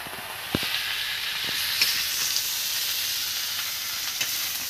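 Dudh shukto frying and being stirred in a pan, a steady close sizzle and hiss with a few soft scrapes and knocks from the stirring.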